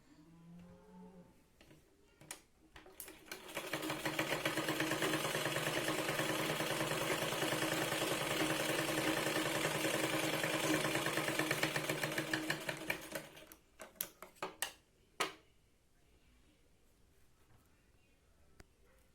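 A sewing machine runs steadily for about nine seconds, stitching strips of fabric for a katori blouse, with a dense mechanical whir that starts and stops. Short clicks follow once the motor stops.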